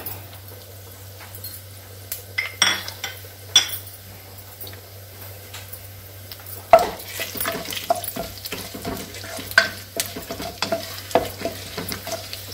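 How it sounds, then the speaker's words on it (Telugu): Four dried red chillies frying in a pan for a ladies finger and meal maker pulusu, with close sizzling, repeated spoon scrapes and metal clinks against the pan, and no talk. "ఎండుమిరపకాయ వేసిన తర్వాత కొంచెం మిరపకాయ వేగాలి"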